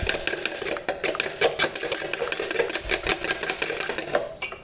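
Muffin batter being whisked in a bowl, a rapid, steady rattle of the whisk against the bowl with fast rhythmic clicks and taps, close and alone.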